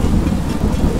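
Rain and a thunderstorm in the video game Teardown, heard as a loud, steady hiss of rain over a deep, rolling low rumble with no voices.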